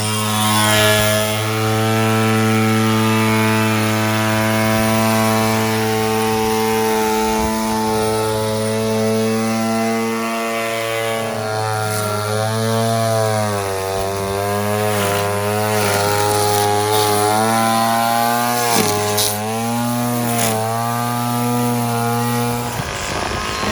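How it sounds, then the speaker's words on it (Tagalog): A gas string trimmer runs steadily while edging grass along the borders of a backyard, its loud buzzing drone holding close and constant, rising and dipping in pitch as the throttle is worked. "Ititrim na naman yung mga nasa gilid."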